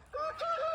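A rooster crows in a waterfowl paddock set up as a home for gentle roosters, one drawn-out crowing call at moderate distance against quiet surroundings.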